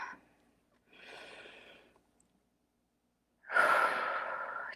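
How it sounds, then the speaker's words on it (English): Deep breathing without speech: a soft, moderate inhale, a pause, then a louder, longer breathy exhale that carries to the end. "let's just take a deep breath for that one."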